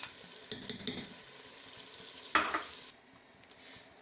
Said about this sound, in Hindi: इसमें डाल के बस कोफ्तों को भूनना है